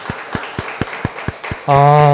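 Church congregation clapping to celebrate birthdays during a Sunday service, about eight evenly spaced, rhythmic claps, followed by a voice singing a sustained tone at the end.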